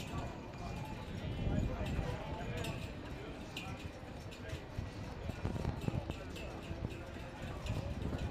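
Horses trot at a Dutch horse inspection, their hooves clopping steadily on the ground amid dense crowd noise while an announcer speaks over a loudspeaker.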